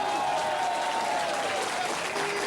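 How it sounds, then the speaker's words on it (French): A French TV studio audience applauds steadily, a dense, loud wash of clapping sustained for the full stretch with a crowd murmur beneath. "Applaudissements."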